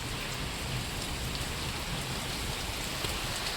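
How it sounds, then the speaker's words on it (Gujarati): Wind-driven rain falls hard and continuously on a farm, a thick even hiss of drops pattering on surfaces with no break and no voices. "પવન સાથે વરસાદ છે"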